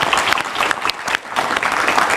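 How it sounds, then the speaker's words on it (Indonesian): Studio audience applauding on an Indonesian political talk show, a loud, dense wash of clapping that dips briefly, then carries on steadily throughout. "tepuk tangan dulu."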